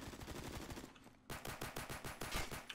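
Rapid pistol gunfire in the Roblox shooter game Phantom Forces cracks out in two fast bursts of repeated shots, close and loud, with a short gap between them.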